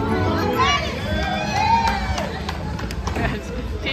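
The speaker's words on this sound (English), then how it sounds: "There's a lot of people behind me, guys. They're cheering for one of the person that is playing here." A crowd gathered behind a casino slot player cheers and shouts in a loud, continuous swell of excited voices and whoops, close and bustling, with scattered individual yells rising above the din.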